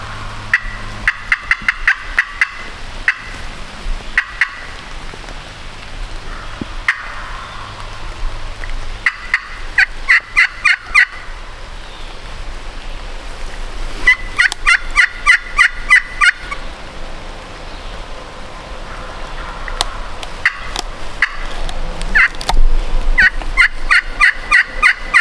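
Wild turkeys gobble in repeated rattling bursts from a distance, several volleys spread across the stretch against a quiet outdoor background, with no voices.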